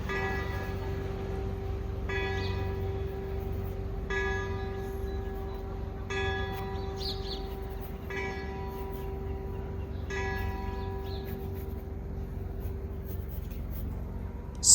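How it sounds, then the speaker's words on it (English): Church bells ring in an Italian fishing village harbor, struck in bursts roughly every two seconds with a long steady hum between. They are moderately loud over a constant low outdoor background. "Here comes the bells again."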